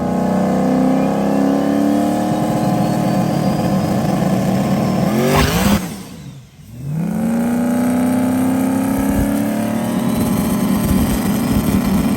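Big single-turbo Ford Mustang making a drag race pass, a loud sustained engine roar that climbs through the gears, briefly drops away around a shift, then surges back with rising revs, close and steady throughout.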